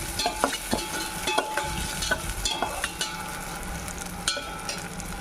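Ingredients for mango paneer rice fry in a pan, a close, steady sizzle punctuated by regular scraping and tapping stirring strokes, with no talking.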